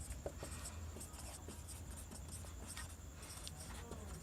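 Chalk or a marker scratches and taps on a board during a maths lesson on real numbers. The strokes are faint and come in short, irregular bursts against a quiet room hiss.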